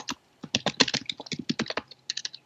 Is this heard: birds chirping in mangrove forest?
no